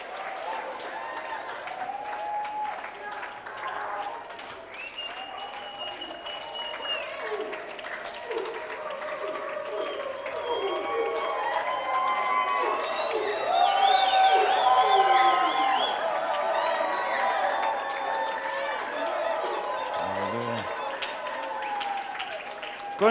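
An audience applauds and cheers at a motivational talk, steady clapping with scattered whoops rising to a louder peak midway, a voice speaking over it throughout.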